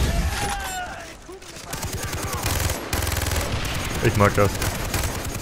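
A rapid-firing gun in Far Cry 3 chatters in fast, dense bursts, loud and close, with brief pauses between volleys while someone speaks German over the shooting.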